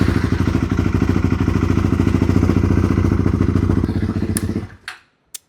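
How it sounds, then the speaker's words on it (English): A 2020 KTM 390 Adventure single-cylinder engine runs loud and steady with a fast, even throb close by, then cuts off abruptly, followed by a couple of sharp clicks in near silence. "So let's see if this thing fires up, which it should"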